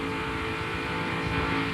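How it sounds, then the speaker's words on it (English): Onboard a 1998 NASCAR Winston Cup stock car at Talladega Superspeedway, the engine drones at a steady high pitch without gear changes, loud and continuous with no voices. "Listen to the engine and you never hear change sounds."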